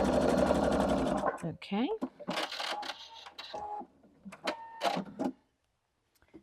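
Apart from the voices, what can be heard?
sewing machine stitching a straight seam on quilt pieces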